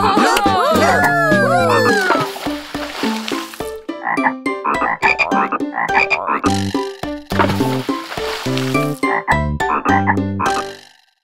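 Loud, repeated frog croaks in a children's farm song sound over busy, lively music, in quick bursts that keep going throughout.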